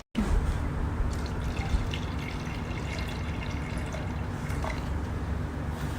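Water poured and trickling into the tank of a fractional CO2 laser machine, a continuous wet filling sound with faint drips, fairly close and steady for six seconds, no talking.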